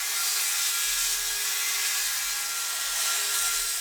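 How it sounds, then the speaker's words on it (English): Circular saw riding a track straight-edge jig, ripping 2x12 lumber: a steady, loud, continuous whine with a broad hissing buzz that holds unbroken and close throughout, no talking. "I'm using this circular saw track straight edge jig thing here on the parts that came out of my 2x12s"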